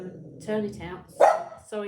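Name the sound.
dog barking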